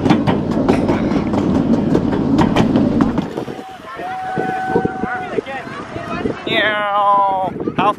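A mini train on an amusement park track rattles loudly up close with a rhythmic clatter and wind buffeting, then quietens as people talk excitedly.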